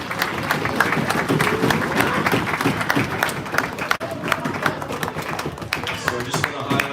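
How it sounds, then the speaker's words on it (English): A banquet audience at a youth hockey year-end celebration claps steadily, a dense, continuous patter of applause with crowd murmur throughout. "So big round of applause for you guys on a great season."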